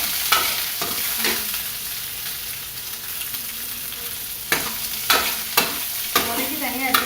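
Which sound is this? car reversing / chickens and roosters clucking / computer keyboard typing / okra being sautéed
okra being sautéed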